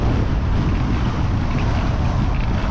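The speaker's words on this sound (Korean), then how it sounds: "바람 많이 부네요" Strong outdoor wind buffeting the microphone, a loud, continuous roaring rush with no pauses and no voices.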